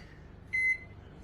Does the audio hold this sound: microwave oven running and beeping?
yes